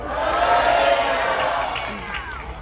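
An audience in a cruise ship theatre cheers during a Deal or No Deal game, a loud burst of crowd voices and whoops that swells and then gradually eases.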